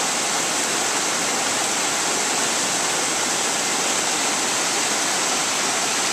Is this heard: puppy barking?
no